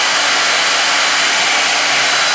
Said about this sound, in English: So I'm going to turn this blow dryer on.